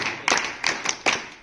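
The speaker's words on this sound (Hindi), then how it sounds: "जोरदार तालियां" A school quiz audience in Uttarakhand claps in a few short bursts, each a sharp, close smack of hands with brief pauses between, and no voices over them.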